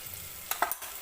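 Chili powder and turmeric roast in hot oil with a soft, steady sizzle, broken by a few quick stirring scrapes close by.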